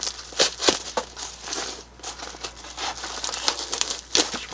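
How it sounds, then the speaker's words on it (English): Corners of cardboard packaging on a mail delivery being cut open: close crinkling and crackling with sharp tearing bursts, uneven scrapes and rustles in quick succession, with no talking. "Let me get these corners cut open."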